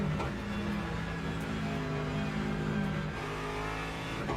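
Race cars in the Le Mans Ultimate racing game at Spa, a loud sustained engine drone with shifting revs as cars overtake, steady and close with no talk.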